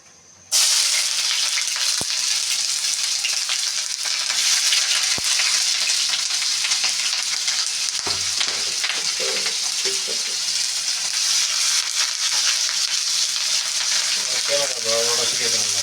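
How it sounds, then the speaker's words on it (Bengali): Sliced onions dropped into hot oil and ghee for a desi chicken roast give a loud, continuous close sizzle and crackle. It holds steady throughout, with brief stirring clatter and a voice near the end. "এখন পেঁয়াজটা দিয়ে দিচ্ছি।"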